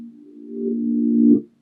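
A reversed piano progression in FL Studio swells gradually from soft to loud over about a second, then cuts off abruptly, with no voices.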